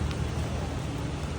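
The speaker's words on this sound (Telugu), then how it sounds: "బాగా వర్షం హెవీగా పడుతుంది" Heavy rain pouring down in a steady, dense wash of noise, close and unbroken, with no voices over it.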